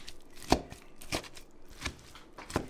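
A knife chops through marinated al pastor pork on a board in about five evenly spaced, crisp strokes, close and fairly loud, with no voices.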